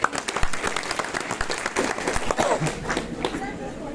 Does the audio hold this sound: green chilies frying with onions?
no